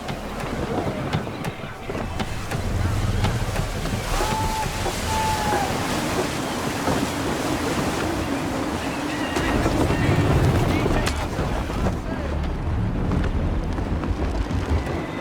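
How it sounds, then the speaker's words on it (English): Gusty sea wind blows in Assassin's Creed III, a loud, continuous roar of wind and surging waves around a sailing ship, with a voice speaking over it. "Wind looks to be shifting. Stay alert, Connor. Gusty winds can be difficult to manage."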